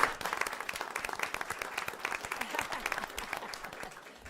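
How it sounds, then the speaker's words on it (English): A round of applause during a school board meeting: many hands clapping steadily in a meeting room, fairly soft and even throughout, gradually easing toward the end. "we need to give her a round of applause to she and her team"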